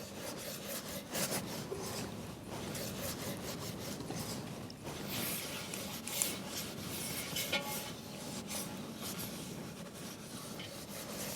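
Lard being rubbed by hand around the sides and bottom of a cast iron pot, a soft, steady, close scraping and rubbing that continues without talk.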